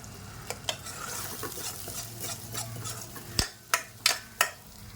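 Peas for nimona stirred and frying in a pan, a low sizzle running beneath scraping spoon strokes, then several sharper metallic scrapes and knocks near the end, close up with no speech.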